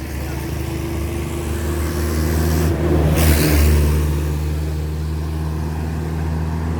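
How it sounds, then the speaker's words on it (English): Noisy trucks drive past outdoors, a loud low engine rumble swelling to a peak around the middle with a rushing whoosh as one goes by, then easing off; no speech. "Noisy trucks go by."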